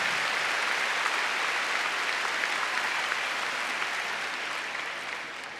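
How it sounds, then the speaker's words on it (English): Sustained audience applause fills an arena at a Crufts international agility final, a dense even wash of clapping that slowly tapers off toward the end. "give them a round of applause"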